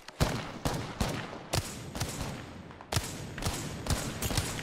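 Video game gunfire crackles in sharp, close shots and short irregular bursts, loud and punchy, repeating over a few seconds.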